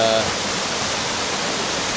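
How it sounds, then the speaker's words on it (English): Rain begins falling outdoors beside water, a steady, dense hiss of drops that holds evenly throughout. "It just started raining"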